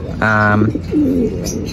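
A pigeon coos once in a low, rounded warble close by, followed by a softer gurgling coo, with faint background noise.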